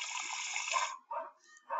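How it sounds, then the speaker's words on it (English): Water gushes from a sink tap in the Barbie Pet Rescue game: one bright running-water burst of about a second, then two short splashy follow-ups. "You can get water from the sink."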